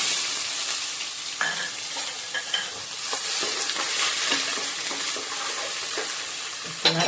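Onions frying in a pan with ginger paste, a loud, close, continuous sizzle broken by stirring clatters and scrapes, no voices.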